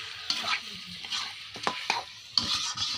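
Meat and potatoes frying with turmeric and salt in a pan over a wood-fired stove, with close stirring scrapes and utensil clinks over a soft sizzle.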